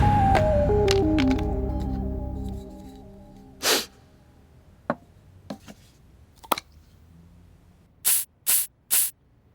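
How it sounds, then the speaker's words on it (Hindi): A perfume spray bottle gives three quick, sharp hissing bursts close by, following a fading low hum and a few scattered clicks and taps. "वो स्प्रे है पापा, स्प्रे।"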